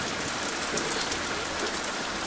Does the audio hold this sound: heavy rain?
yes